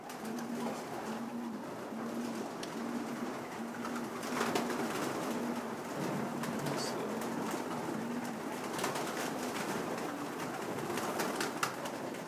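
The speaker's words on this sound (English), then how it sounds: "Now you bring the pigeons back from the shower." Racing pigeons cooing steadily in a loft in Belgium, a repeated soft low call running throughout amid a busy background of shuffling and faint movement, with no talking.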